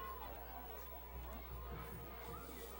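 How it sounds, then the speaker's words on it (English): Loud, boisterous home crowd for Hawthorne at a November 1994 high school football game against Leuzinger, a steady roar of cheering and shouting voices with chatter mixed in throughout. "And now the Hawthorne crowd is back into the game in a very loud and boisterous way"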